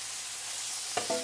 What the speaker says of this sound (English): Get it moving around the pan. Listen to that sizzle.